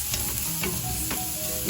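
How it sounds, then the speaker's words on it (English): Food frying in a pan and being mixed, with a steady close sizzle and occasional scraping stirs throughout, no voices. "Give it a good mix."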